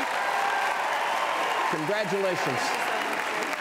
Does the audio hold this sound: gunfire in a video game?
no